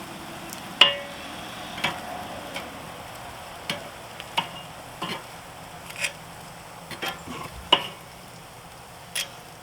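Smoked hot and spicy chicken wings being turned over on a grill, with a soft, steady sizzle broken by a series of sharp, irregular clicks and taps from tongs against the grate.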